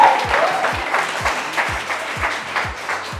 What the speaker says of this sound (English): Let's clap for Randir, everyone.